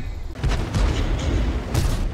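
Artillery shells strike and burst around a tank in a video game battle, a run of heavy booming impacts that hit close and loud, with a rumbling tail between blasts.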